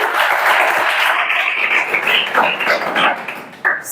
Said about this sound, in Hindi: जोरदार ताली बजाओ कर लिए